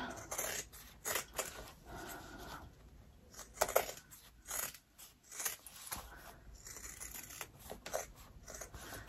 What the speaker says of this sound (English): we're cutting all those zippers off and all the excess we don't need